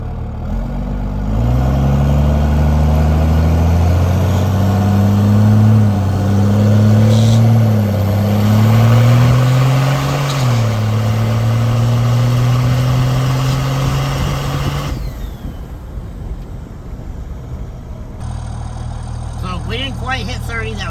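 A Dodge Cummins diesel truck engine with an injector upgrade, idling and revving up and down in several rising pulls at high elevation in Denver, close and loud, before settling into a rougher idle.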